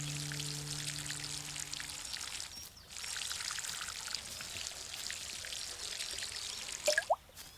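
Water splashing and pattering from a small watering can onto planted seeds in Garden Simulator, a steady close pour broken by a brief gap, ending with a couple of sharp splashy plinks.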